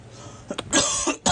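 A person with the flu coughs a few times in quick, harsh bursts, close and fairly loud, with no talking.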